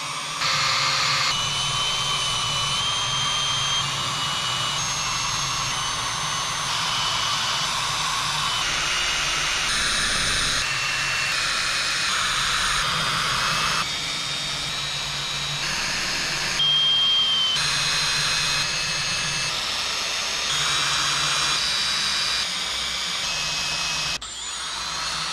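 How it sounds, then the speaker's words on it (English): A power drill bores 3/32-inch pilot holes through an aircraft rear spar cap strip for a Bearhawk build, clamped over sacrificial wood; a loud, high whine runs in repeated bursts with short pauses between holes. "Time to start drilling."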